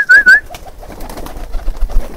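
Domestic pigeons come in to feed from a hand, opening with a couple of loud close calls, then soft coos and light wing flutters and shuffling that continue near and quiet.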